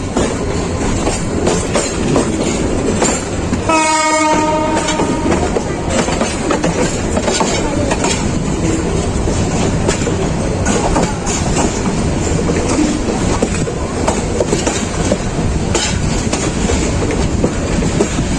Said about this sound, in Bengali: আমাদের ট্রেনটি প্রথম স্টপেজ ফেনী রেলওয়ে স্টেশন থেকে পাঁচ মিনিট যাত্রা বিরতি দিয়ে আবাসের উদ্দেশ্যে রওনা হয়